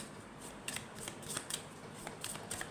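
Tarot cards are drawn and slid from a deck, making quiet, close papery flicks and snaps in an irregular series over a soft background hiss.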